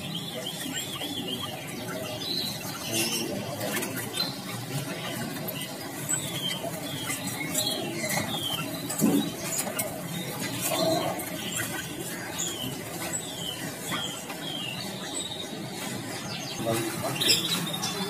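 Caged birds for sale at Putra Sangkar Cibinong, a bird shop, including turtle doves, chirping and calling continuously at a moderate level amid shop noise, with no speech.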